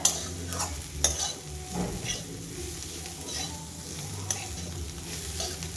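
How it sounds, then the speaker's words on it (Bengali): Fried bitter gourd with onion and coriander leaves being stirred in a pan, a steady soft sizzle with scraping spatula strokes throughout, close and fairly quiet, no talking. "আমি একটু করলার সাথে ধনে পাতাটা মেশিয়ে নেবো"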